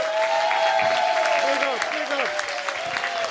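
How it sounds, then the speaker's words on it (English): Enthusiastic applause from a crowd at a scholarship brunch fills the room, steady clapping throughout, with a voice speaking over it. "Everybody clap her!"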